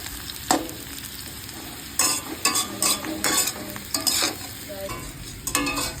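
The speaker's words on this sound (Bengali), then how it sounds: "সজনার ডাঁটা, গাজর সমস্ত সবজিগুলোকে কড়াইয়ের মধ্যে দিয়ে ভালো করে ভেজে নিলাম।" Drumsticks, carrots and other vegetables being stir-fried in a kadai for shukto: a low constant sizzle broken by several sharp bursts of spatula scraping and tossing, close and clear, with no talking.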